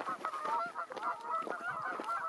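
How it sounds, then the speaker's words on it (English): Canada geese honking repeatedly along a desert hiking trail, a busy overlapping chorus of nasal calls from a flock at moderate distance, steady throughout without talk. "Oh, no, that's the geese this time."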